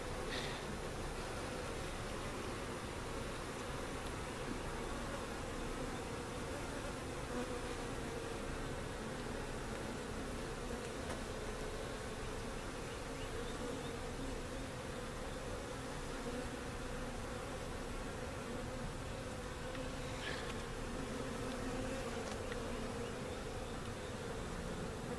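A honeybee swarm fanning, a dense, continuous buzzing hum of many wings that holds steady and fairly loud throughout, with no talk.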